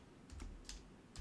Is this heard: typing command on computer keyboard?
yes